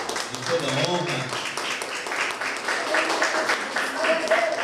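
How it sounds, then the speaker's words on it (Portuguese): A church congregation claps and applauds during a sermon, a steady crackle of hands with voices mixed in. "Vamos aplaudir essa palavra digna de toda honra."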